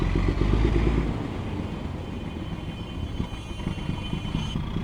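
A Hero Xtreme motorcycle engine thumping with a rapid pulsing beat after an update, loudest at first then steady and close, no one talking.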